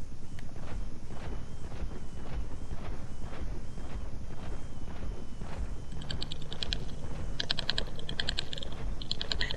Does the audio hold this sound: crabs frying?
no